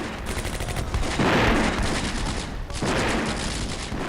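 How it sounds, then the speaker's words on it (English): Mortar rounds and gunfire in the Combat Mission: Beyond Overlord war game, a dense continuous barrage of blasts and crackling shots with two louder surges, no voices. "Oh my goodness, they have mortar."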